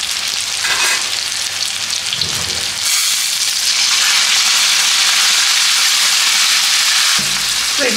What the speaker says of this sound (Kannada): ಇವಾಗ ಮಸಾಲ ಮಿಕ್ಕಿತ್ತಲ್ವಾ ಅದನ್ನು ಇದರಲ್ಲೇ ಹಾಕೋತಾ ಇದ್ದೀನಿ